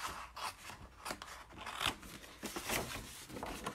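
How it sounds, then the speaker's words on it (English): Scissors snip through paper, trimming the square from each corner while making a gift bag; several close, crisp cuts and crunches recur steadily with no talking. "We're going to actually cut off the square in each corner."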